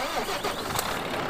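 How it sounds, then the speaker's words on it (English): A video game truck's engine cranks and sputters as it tries to start after a malfunction, a mid-pitched grinding turnover with a brief surge near the middle, fairly faint and without talk. "Engine malfunction."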